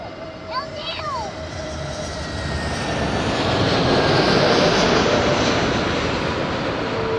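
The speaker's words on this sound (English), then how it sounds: "Nice landing here, Golden Sky indeed" An airliner lands at Madeira Island Airport, its engine roar swelling into a loud, sustained broadband rumble that peaks midway and stays heavy to the end, with someone talking over it.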